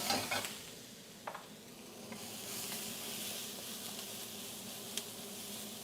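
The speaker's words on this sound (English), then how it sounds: "The garlic and the ginger are popping." Garlic and ginger sizzle and pop steadily in a hot pan with soybean paste nearby, a close, even frying hiss with a few sharp crackles and light stirring, no voices.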